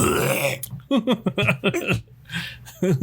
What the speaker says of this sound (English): It's a belch.